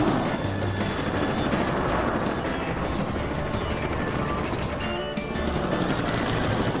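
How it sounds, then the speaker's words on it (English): A cartoon helicopter from the Car City World game, with its rotor drone running loud and constant under game music and effects, briefly dipping near the end. "Hurry, Super Helicopter!"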